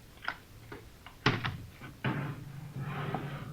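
In a radio drama, a door opens with a few knocks and clicks followed by a louder thud and creak, close and fairly clear against a quiet background.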